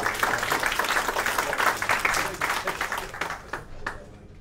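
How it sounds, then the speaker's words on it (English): A conference audience at a media industry session claps for the speakers, with lively applause that thins and fades toward the end. "Applaud, Jack and Alessandro"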